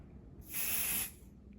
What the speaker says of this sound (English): Okay, I'm gonna let son spray it.